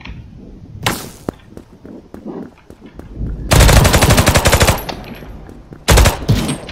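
Assault rifle gunfire in the online shooter Krunker.io: scattered single shots, then two loud sustained automatic bursts with rapid, evenly spaced reports, with brief glassy crashes mixed in.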